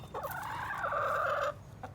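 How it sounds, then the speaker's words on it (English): A hen gives a drawn-out, wavering cluck-like call close by, holding for over a second before breaking off, with no talk. "These are all hens."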